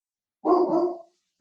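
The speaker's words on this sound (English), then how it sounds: "I hear my Doge barking in the background." A single loud, close dog bark comes from a house, sharp and slightly growly, followed by silence and the start of another bark at the very end.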